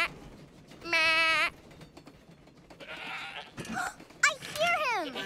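A voice imitates a goat, giving a few drawn-out bleats in a cartoon for kids. The bleats are separated by short pauses and sound near, with other voices and background sound mixed in.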